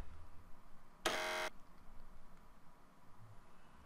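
A single short electronic beep from a modded item in Minecraft, a harsh buzzy tone lasting about half a second against quiet background noise.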